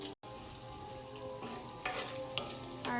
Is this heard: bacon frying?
yes